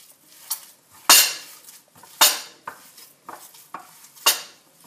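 Ground meat being kneaded and mixed by hand with spices, mint and olive oil for Tunisian madfouna, giving a series of close, soft wet slaps and squelches in an irregular rhythm, with no talk.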